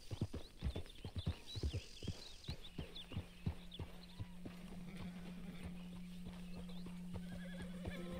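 Horse in Red Dead Redemption 2 with rapid clip-clop hoofbeats at a gallop, then a whinny, followed by a steady low hum as the hooves fade.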